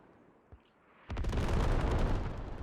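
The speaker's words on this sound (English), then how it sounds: "We see a second frag. It takes out both Seth and" A frag grenade goes off in the tactical shooter Squad, a sharp loud blast after a faint pop, followed by a long rumbling roar with no talk.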